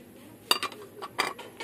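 Plates clinking as they are handled, white dishware including a salad plate, with two or three sharp, close ceramic clinks and a softer rattle in a quiet room, no talk.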